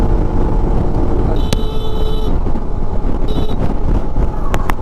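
Wind buffets the microphone in a constant low rumble during a motorcycle ride, with a few faint tonal whines and sharp ticks mixed in.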